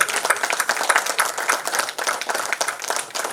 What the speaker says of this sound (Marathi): या प्रसंगी जोरदार टाळ्या होऊ द्या.